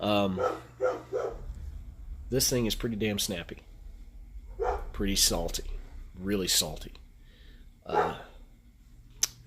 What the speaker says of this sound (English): Oh, excuse my dogs.